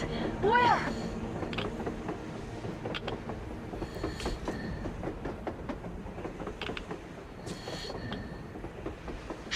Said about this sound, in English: A damn train on the surface!